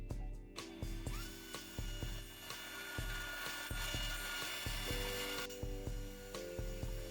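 A walnut panel is cut in several shallow passes to form a rabbet, giving a quiet, close machine drone broken by repeated sharp ticks and short tonal bursts as each pass begins and ends.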